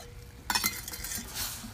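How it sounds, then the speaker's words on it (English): A spoon stirring sugar into a sweet candy coating mixture in a pot, a few soft close scrapes and clinks over about a second, fairly quiet. "And then you're gonna stir that together."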